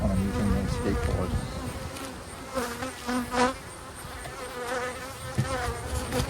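Honeybees buzz continuously around a hive, several wings droning close by with brief louder passes and faint knocks in the background.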